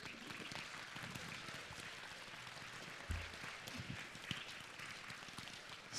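Faint, distant applause from a congregation during a Shabbat service, a soft continuous patter of clapping with a couple of small bumps, heard from far off.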